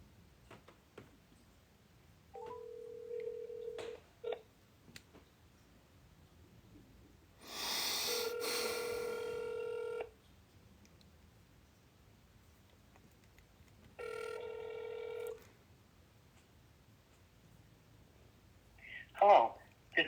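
Phone line during a prank call: a steady single ringback tone comes in a few long bursts separated by quiet gaps, followed by a brief click or pickup noise at the end.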